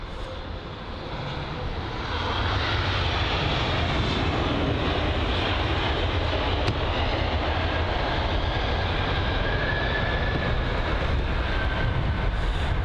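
A China Southern Boeing 787 Dreamliner's engines roar steadily at London Heathrow, a sustained, loud, broadband jet rumble heard from across the airfield, growing after the first couple of seconds and holding without any voices.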